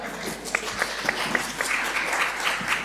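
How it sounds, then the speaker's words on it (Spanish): An audience claps in a hall to welcome a guest economist, a light scattered round of applause with uneven individual claps, fairly close and moderate in volume. "¿Se puede aplaudir, ah?"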